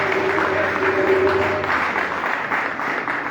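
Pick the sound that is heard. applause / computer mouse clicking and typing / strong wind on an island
applause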